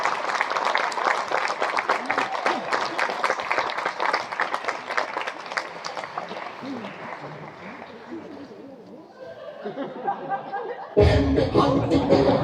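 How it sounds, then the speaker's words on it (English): A theatre audience at a comedy opening act for Engelbert Humperdinck breaks into a round of clapping and applause mixed with crowd murmur and chuckles, fading down before a louder burst of noise at the end. "Round of applause now as I clear out the pens"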